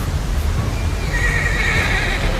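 A horse caught in raging floodwater lets out a loud, drawn-out neigh over a constant roar of rushing water, the whinny rising and wavering before fading.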